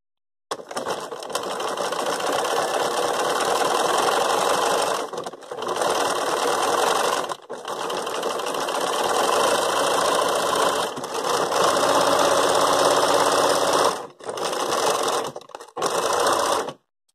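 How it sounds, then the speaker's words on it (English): A sewing machine stitches fabric in long, fast, even bursts of close mechanical whirring, stopping briefly several times between runs, with no talking. "I'm centering the foot over the edge of this scale and getting ready to sew"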